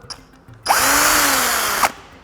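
A power drill whines steadily for about a second while drilling through the front bumper of a Toyota GR86, its pitch sagging slightly under load, then stops abruptly; close and loud with no talking.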